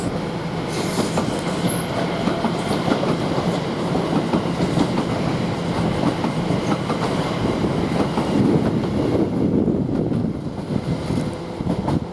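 A train rumbles through Shenfield railway station, loud and continuous, with rolling wheel noise and some squealing from the rails. The sound fades a little near the end.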